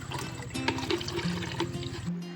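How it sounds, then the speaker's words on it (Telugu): Water runs from a tap into a container, a close, gurgling stream whose tone rises slightly as the vessel fills, in a home kitchen. "కొలాయి నీళ్ళు అయితే వస్తున్నాయి, ఇంకా కొలాయి నీళ్ళు పట్టుకుంటున్నా."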